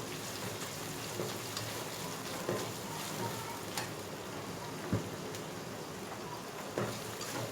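Onions and whole chillies frying in oil over a high flame, a steady dense sizzle and hiss with occasional louder pops and spatters, close and continuous, with no talking.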